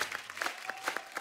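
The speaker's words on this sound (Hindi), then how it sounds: "जोरदार तालियां एक बार पंकज सर के लिए।" Studio audience at The Kapil Sharma Show applauding actor Pankaj Kapur, lively close clapping with sharp individual claps standing out from the crowd.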